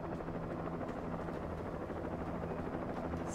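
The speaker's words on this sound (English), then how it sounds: "I can hear a helicopter." A helicopter in the video game Alan Wake, heard as a steady, continuous rotor drone with low rumbling tones that holds at a moderate level throughout, without any talking.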